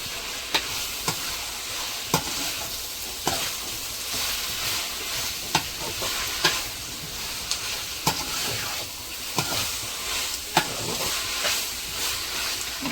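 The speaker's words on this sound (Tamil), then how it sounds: "ஒரு 3 ஸ்பூன் அளவுக்கு இஞ்சி பூண்டு பேஸ்ட் போட்டுக்கிறோம்." About three spoons of ginger garlic paste fry in a pan for potato masala, with a steady loud sizzle and hiss broken by sharp spoon scrapes roughly every second as it is stirred; no voices.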